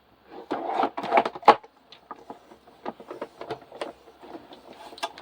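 A Gina K Intricate embossing machine cranks an embossing folder sandwich through, producing close, uneven creaks, clicks and grinding knocks that are louder early on and then fade into softer, scattered clicks.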